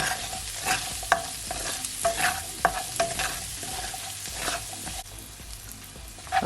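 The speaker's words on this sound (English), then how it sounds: "I'm just gonna allow it to saute" Ginger sautéing in a pan with onion, a steady sizzle of frying broken by sharp scraping and clinking as it is stirred, close and alone with no talking.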